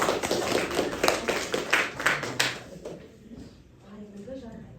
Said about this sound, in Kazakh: Аталар қол шапалақтап отырайық